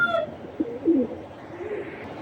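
A male racer pigeon coos nearby in a couple of soft, throaty rising-and-falling notes, with a faint chirp at the start and quiet background ambience after.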